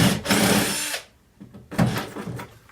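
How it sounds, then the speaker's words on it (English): A cordless drill with a worn chuck and a slipping bit whirs loudly for about a second, stops briefly, then spins up again in a second close burst. "This drill bit keeps slipping on this drill."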